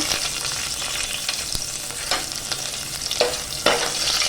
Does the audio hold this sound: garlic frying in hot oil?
yes